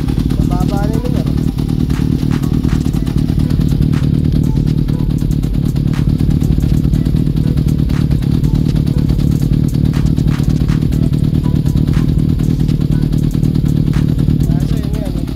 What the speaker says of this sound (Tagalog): Maingay na yung makina kasi mababa na yung numero.